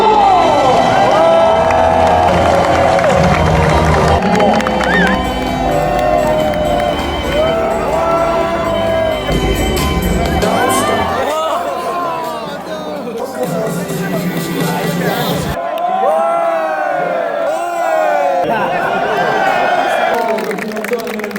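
A dense crowd celebrates the hypercar podium at the Le Mans 24 Hours, with loud continuous cheering and babble, shouts and some engine noise, and people talking nearby throughout.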